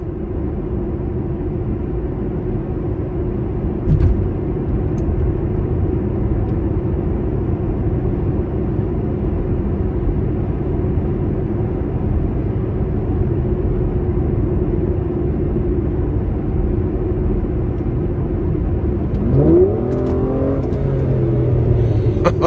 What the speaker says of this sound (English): Just such a great sound from the exhaust.